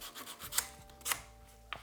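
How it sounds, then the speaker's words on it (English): A glued wood piece is given a quick hand sanding, producing faint, brief scratchy rubbing strokes in a few separate passes. "And give this a quick sanding."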